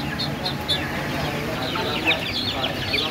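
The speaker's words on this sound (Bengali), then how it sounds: "সকল প্রকার হাঁস ও মুরগির বাচ্চা এখানে পাবেন" Chicks and ducklings at a hatchery shop in Khulna fill the air with a dense, steady chorus of high cheeping and clucking, close and continuous over a low background rumble.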